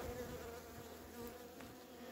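Honey bees buzz steadily at a hive holding crystallised honey, a continuous close insect drone with no talk.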